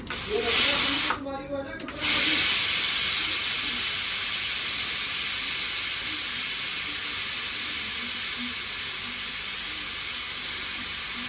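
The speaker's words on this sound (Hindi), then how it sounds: "अब गैस बंद करने के बाद भी ये सूसू हो रही है" A loud, steady hiss of steam escapes continuously from a pressure cooker after the gas is turned off, broken briefly near the start, then rushing on unchanged for several seconds.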